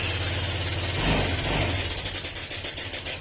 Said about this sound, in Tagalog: ito ang dila sa atin na Honda Click 125 na maingay yung makina